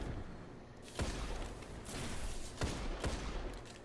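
Fusion rifle fire in a Destiny Iron Banner match, heard as a dense noisy burst of game gunfire with several sharp cracks standing out, moderately loud and continuous over roughly four seconds, with no talk.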